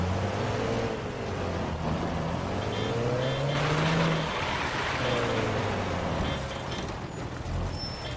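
Video-game vehicle engine in Firestorm droning steadily throughout, with pitch rising and falling as it accelerates and shifts, loud and close with no talk.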